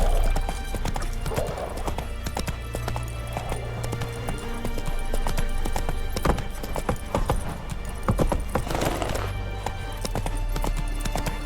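Roach, a horse in The Witcher 3, gallops with steady rhythmic clip-clop hoofbeats throughout, loud and close. A snort or whinny rises near the end over a low rumble of game ambience.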